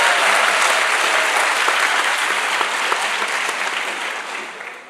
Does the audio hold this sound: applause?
yes